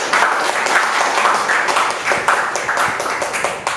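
Classroom group applauding student teachers after a web server configuration demo, close and loud clapping with distinct individual claps, gradually thinning toward the end.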